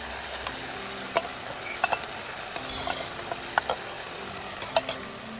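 Ginger, cumin, chili, onion and garlic paste sizzling in oil over a wood-fired clay stove, a continuous crackling fry punctuated by sharp clicks of stirring, moderately close.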